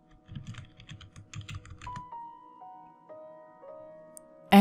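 Light keystrokes patter on a computer keyboard in a short quick run of clicks, clear and close with no talking, then fade to near silence.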